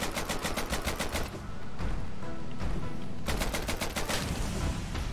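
Rapid automatic gunfire in the video game Hollow Knight played with a randomizer mod that adds guns, sounding as dense continuous bursts of shots over game audio, with one short pause partway through and no talking.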